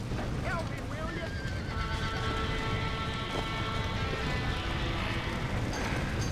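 A horse whinnies and hooves clatter in Red Dead Redemption, with a dense, loud mix of game action, shouting voices and chaotic noise around them.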